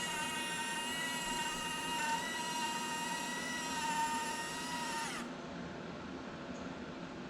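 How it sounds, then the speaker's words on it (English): A small servo motor drives the hoist of a scale snowplow dump bed model, giving a steady high electric whine with a tonal buzz that holds for about five seconds, then drops to a quieter hum. "Servo's tweaking out on me here."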